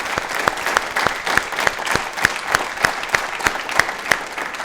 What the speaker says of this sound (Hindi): एक बार तालियां इनके लिए भी और अपने लिए भी जोर बजाएं